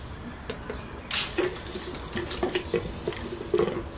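Water pumped through a brewing chiller splashes and trickles into a jug in uneven spurts, with faint clinks and gurgles, close by and moderately loud.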